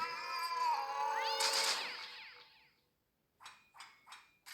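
A cat in a video game meows loudly in a long drawn-out wail, then after a short pause gives three shorter meows in quick succession, with no talking.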